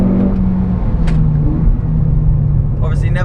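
Engine of a Renault Clio RS accelerating on a race track, a loud steady rumble heard from inside the car as the pitch climbs slightly, with a voice talking over it.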